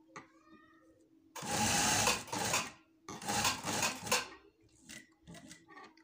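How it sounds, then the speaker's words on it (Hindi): A home sewing machine runs a straight stitch on shirt fabric in two close, steady whirring bursts, each lasting over a second, with quiet pauses before, between and after them. "बिल्कुल इजी होके सिलाई लगानी है।"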